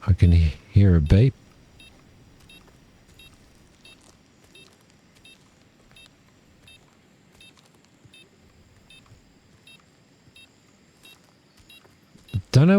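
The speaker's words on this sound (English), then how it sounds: "I can hear a beep." Faint, evenly spaced electronic beeps tick repeatedly in the video game Incursion Red River, a steady pulse under quiet background noise, with someone talking briefly at the start and end.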